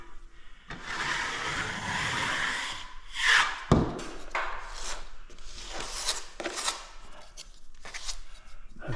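A plastering tool scrapes plaster on a square set drywall doorway opening, a loud rasping stroke first, then a series of shorter scraping passes and knocks nearby.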